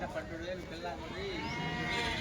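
Sheep bleat repeatedly from a flock amid a busy outdoor din at a weekly sheep and goat market in Kadiri, with voices murmuring underneath.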